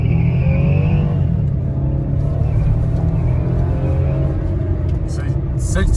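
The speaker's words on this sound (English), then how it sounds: "From 0 to 60. Did get some tire spinning." A 2008 Lexus 350 accelerating hard from 0 to 60 with some tire spin, its engine a steady loud low rumble that climbs gradually, with someone talking over it throughout.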